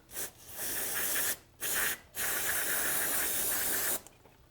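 Cleaner sprayed onto a Polaris Ranger brake caliper with the pads removed: three hissing bursts, a short one, a longer one and a final long one, each close and loud, separated by brief pauses, with no talking.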